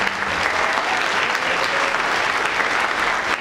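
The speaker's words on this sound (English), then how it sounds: "So please, a round of applause for all those." A large audience breaks into steady, dense applause at a college speech night, loud and sustained with no pauses throughout.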